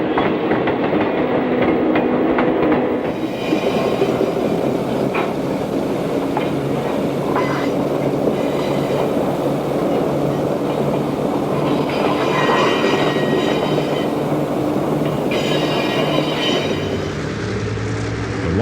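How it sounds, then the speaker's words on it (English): An Illinois Central electromotive switcher locomotive passes 103rd Street on a 1960s transfer run, pulling rail cars. Wheels roll with a steady clatter, squeal now and then and click over joints, loud and continuous as the cars go by. "An Illinois Central electromotive switcher passes 103rd Street on a transfer run."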